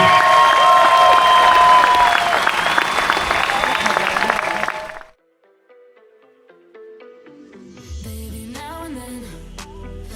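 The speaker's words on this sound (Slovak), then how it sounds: "A veľký potlesk pre nich." Applause and crowd noise for the winners of the Raslavický pedál 2024 cycling race, a loud dense clapping wash for about five seconds that cuts off abruptly, followed by near silence and then music.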